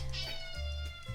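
A cat meows loudly and insistently close by in a kitchen, several drawn-out calls back to back, with no talk over them.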